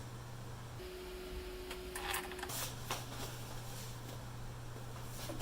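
A sewing machine stitches heavy-duty vinyl shower curtain with a steady mechanical hum, shifting pitch as the motor speeds up and slows, with a few clicks along the way.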